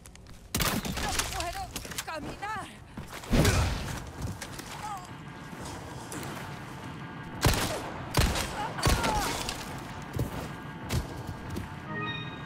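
Crossbow bolt shots and impacts in the Resident Evil 4 Remake video game, a few sharp loud cracks and thuds spread across the scene amid game noise and creature sounds, with someone talking at times.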